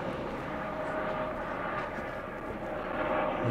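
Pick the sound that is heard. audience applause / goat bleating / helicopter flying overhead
helicopter flying overhead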